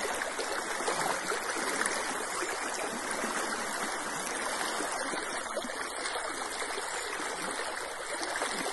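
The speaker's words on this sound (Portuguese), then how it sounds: "Olha aqui o rio Barra Verde, ó." River water floods over a dam spillway at the Gargalheiras reservoir in Acari, a dense, steady rushing roar that holds constant throughout without any voices.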